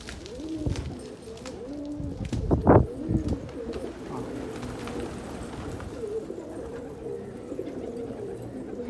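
Desi gola pigeons coo softly and repeatedly in low, throaty calls, with a louder burst of cooing near the start and steady cooing continuing afterward.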